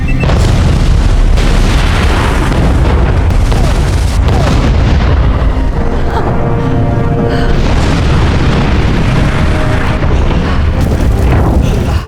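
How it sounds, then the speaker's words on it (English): A huge blast tears through a research base, a dense, continuous roar of booming explosions and rumbling debris that stays loud and unbroken for about twelve seconds. "they decided to blow up the entire base"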